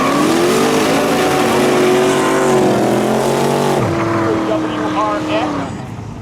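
Race cars at Seekonk Speedway roar past at close range, loud engine notes climbing and dropping with shifts, one sharp downshift near the middle, then the sound fades slightly as the cars pull away.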